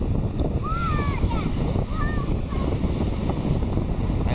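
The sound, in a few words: huge waves crashing at a pier during a storm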